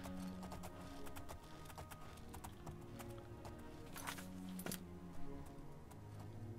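Horses' hooves clip-clop in The Elder Scrolls IV: Oblivion, a steady run of hoof strikes over ambient game music and background noise, with a sharper clatter near the end.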